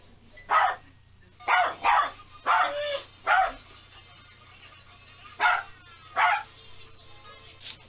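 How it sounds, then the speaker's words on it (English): A guard dog barks in a series of sharp, separate woofs, first in a quick cluster and then two more after a pause, clear and fairly close against a quiet background. "Just one of his dogs start barking again"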